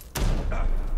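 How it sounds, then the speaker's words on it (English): A grenade goes off in a video game with a sudden sharp crack, then a deep rolling boom that rumbles on loudly for the rest of the moment. "I almost killed myself with a grenade."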